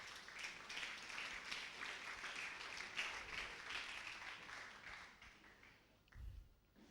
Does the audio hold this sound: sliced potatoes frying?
no